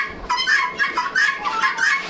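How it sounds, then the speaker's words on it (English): Guinea fowl calling close by in a rapid series of harsh, rasping chirps, about six repeated bursts in an irregular rhythm, loud and unaccompanied by speech. "The calm chirp of the guinea fowl."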